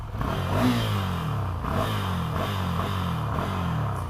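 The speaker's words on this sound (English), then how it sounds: "It does get this sort of vibration-y sound a bit higher up the rev range." A Ducati Scrambler motorcycle engine revs high, its pitch climbing in repeated sweeps with a buzzing, vibrating edge, heard close and steady throughout with no talking.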